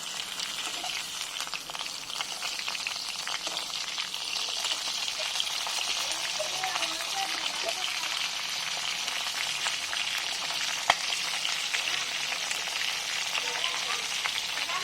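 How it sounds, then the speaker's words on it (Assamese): Pork sizzles and spits in its own rendered fat in a pan for a sustained stretch, with occasional scraping from stirring and a sharp click near the end. "মাংসখিনি এতিয়া মই এক সিটি লুটিয়াই দিম"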